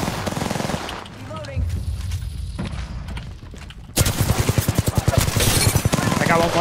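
Mastiff shotgun blasts in a video game: a few spaced shots early, then a dense rapid burst of loud gunfire in the second half, mixed with game action noise and a voice speaking.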